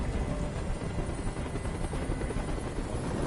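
A helicopter hovers overhead in the video game Detroit: Become Human, its dense rotor roar constant and loud throughout, with no voices over it.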